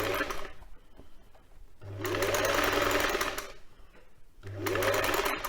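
Sewing machine stitching a quilt cover, three bursts of fast, even motor whir and needle chatter with brief quieter gaps between them as the fabric is fed through by hand.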